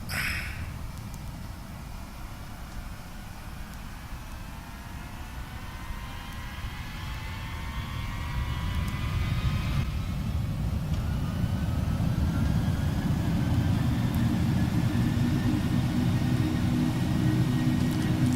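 Steady jet engine roar of an L-1011 airliner in a flight simulator, swelling louder partway through, a broad continuous rumble with rising whine tones, no voices.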